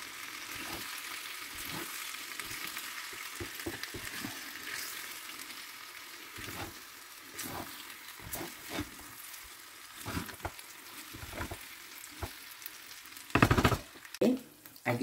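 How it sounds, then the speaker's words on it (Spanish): Potatoes fry with vinegar in a pan for patatas al ajo cabañil, a soft steady sizzle broken by scraping knocks of a utensil stirring, louder clatter near the end, no talk. "Vamos a dejar que se nos vaya evaporando el vinagre que hemos echado, meneando esto"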